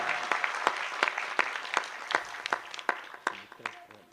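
A poetry recital audience claps for the poet, a sparse crowd of individual sharp claps in an irregular rhythm, fairly close and moderately loud, with a voice briefly audible near the end.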